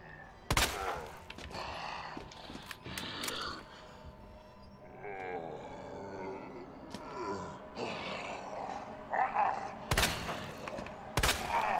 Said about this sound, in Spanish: Pero, ¿cuántos disparos van ya, tío?